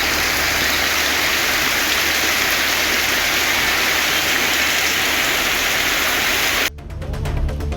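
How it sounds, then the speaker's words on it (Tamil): Heavy rain pours down at night with strong wind, a dense, steady hiss that fills the scene loudly, then cuts away abruptly near the end. "நள்ளிரவு நேரத்தில் பலத்த காற்று மற்றும் இடி மின்னலுடன் மழை கொட்டியது"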